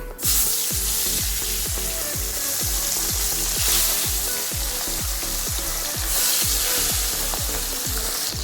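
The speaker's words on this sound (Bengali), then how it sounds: "এবার একটা একটা করে মাছগুলোকে ছেড়ে দিবে" Pabda fish frying in well-heated oil in a kadai wok, a loud, steady sizzle that runs throughout, with a regular rhythmic thumping pulse underneath.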